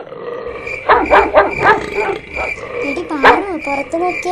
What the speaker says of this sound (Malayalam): നായയുടെ സൗണ്ട് ഒക്കെ കേൾക്കുന്നത് കണ്ടോ?